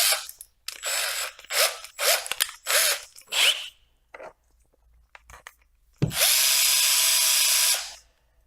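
Power drill cutting a chamfer on a 3D-printed part in a garage: several short loud bursts of drilling with pauses, then one sustained, louder run of about two seconds, close up with no talk.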